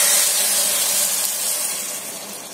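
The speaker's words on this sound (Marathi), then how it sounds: "आता आपण ह्याच्यामध्ये हे गरम पाणी टाकून देऊया" Hot water poured into a simmering Marathi-style egg curry makes a loud, steady sizzling hiss that tapers off gradually over a couple of seconds, with no talk.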